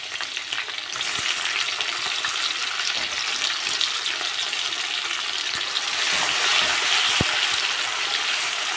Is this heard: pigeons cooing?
no